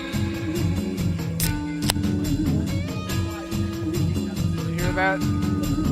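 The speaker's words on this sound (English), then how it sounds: "That was the sound of me cracking a victory beer." A sharp crack and quick fizzy hiss of a beer can opening, close by, partly buried under people talking.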